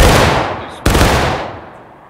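Musket volley in War of Rights, a dense burst of many muskets firing together, loud and booming, then a second sharp crack of fire near the one-second mark with a long rolling echo fading out; no talking.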